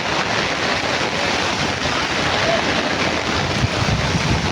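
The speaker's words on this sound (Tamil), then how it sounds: "நம்ம ரோடுலலாம் மழை தான் ஃப்ரெண்ட்ஸ்." Steady, dense rushing noise of rain and water flowing along a road in Bangalore fills the scene, loud and constant with no talking.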